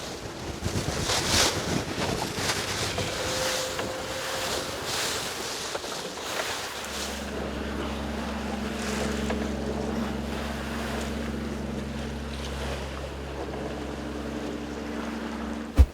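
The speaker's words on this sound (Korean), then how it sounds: "파도도 너무 높고 해서 포인트를 이동 중입니다" A fishing boat off Geojedo on an octopus-fishing trip motors through high waves, steady engine drone rising under rushing wind and splashing water, loud and continuous without speech.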